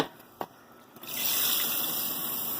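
Water gushes into a cooking pot holding tomatoes, spices, onions and potatoes. After a couple of small knocks, a steady, close pour starts and keeps going.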